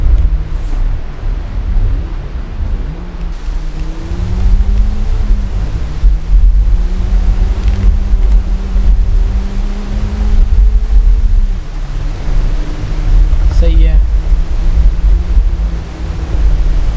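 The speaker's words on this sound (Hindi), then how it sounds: "ओ भाई साहब पूरा पानी के रास्ते में चला रखी है तुम्हारे भाई ने गाड़ी" A Land Rover Defender 4x4 pushing through river water, heard as a steady low engine drone under a wash of rushing, splashing water, loud and close throughout with no talking.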